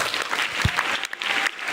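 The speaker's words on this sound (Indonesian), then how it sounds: "tepuk tangan" A studio audience at an Indonesian religious talk show on youth and national defence bursts into applause, a dense, lively clapping that rises and dips slightly over a short stretch.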